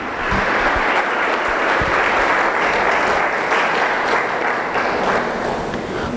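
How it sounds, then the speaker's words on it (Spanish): Church congregation giving a strong round of applause on a morning service, loud and close, dense clapping sustained evenly across the whole stretch. "¿Cuántos pueden darle un fuerte aplauso al Señor en esta mañana?"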